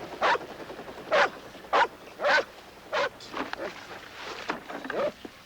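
A dog gives a series of five or six sharp barks at a fairly even pace, heard outdoors at a moderate distance, followed by softer, scattered yips and whimpers.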